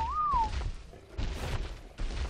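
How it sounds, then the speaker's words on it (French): A short rising-and-falling whistle in ARK: Survival Evolved, a clear single tone at the start followed by muffled game noise and thuds. "Je vais siffler."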